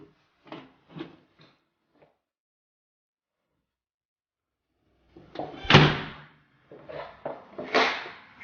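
Entrance door of a 2+1 holiday house in Mersin gives a few soft clicks, then after a quiet pause a loud thump and rattling clunks as it is handled, with no talking.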